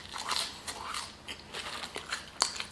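Crunchy bites into Arby's crinkle-cut fries, a series of close, crisp crunches and chewing sounds with no talking.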